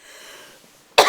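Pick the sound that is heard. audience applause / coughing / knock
coughing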